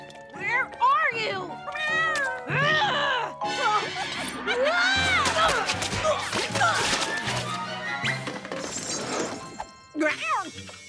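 A cartoon cat meows and yowls repeatedly amid loud crashes, smashes and busy comic sound effects, with voices and music running throughout.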